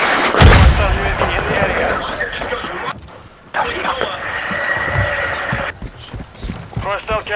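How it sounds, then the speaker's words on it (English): A grenade explosion in a first-person shooter video game: a loud boom near the start, followed by ongoing game gunfire and noise, with someone talking excitedly over it. "Grenade!"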